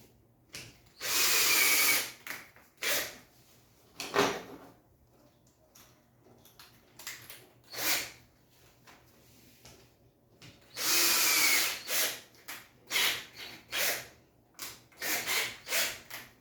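Power drill driving screws into a wall to mount an invisible shelf: several short whirring bursts of varying length, two longer runs among them, separated by quiet pauses, close and clear.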